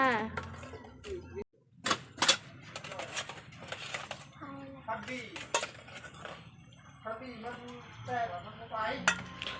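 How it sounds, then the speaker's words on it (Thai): Dishes and bowls being washed by hand in a Lao home kitchen, with repeated clinks and clatters of crockery and utensils under ongoing talk from several people. "ทุกคนก็เลยมาล้างถ้วยล้างจาน"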